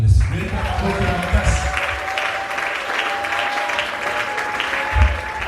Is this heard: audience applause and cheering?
yes